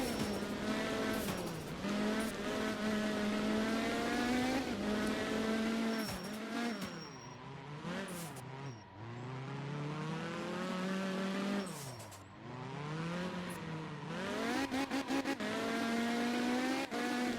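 Rally car in the racing game Art of Rally, engine revving up and down through gear changes with tires squealing and skidding around hairpin bends, loud and continuous with no talk.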